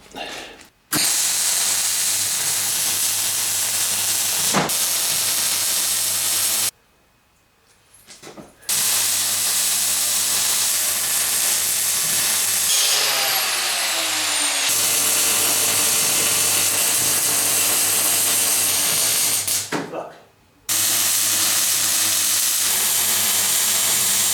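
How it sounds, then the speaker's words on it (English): MIG welding filling a hole in the metal frame of a Kawasaki GT550 bobber project, a steady loud crackling hiss in long continuous bursts with short pauses between runs. "firing up the weld in the middle of the hole, and then you just work it round in a circle out to the edge"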